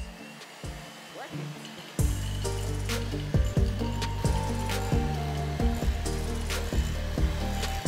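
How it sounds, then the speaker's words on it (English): An electric hand mixer whirs steadily as it mashes boiled potatoes in a bowl, starting abruptly and running loud and continuous with rhythmic knocks as the beaters hit the bowl. "afterwards I'll grab the hand mixer and just"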